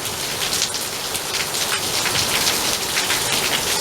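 Heavy rain pours steadily during a storm under a flash flood warning, with water filling the street to the top of the curb. A loud, continuous, close hiss of downpour runs throughout, with no voices.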